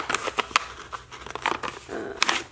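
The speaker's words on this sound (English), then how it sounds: "Let me get my little X-Acto guy here and hopefully not cut anything inside." A package being cut open with an X-Acto knife: short scraping, crinkling and tearing bursts of packaging material, close and fairly quiet, in an irregular rhythm.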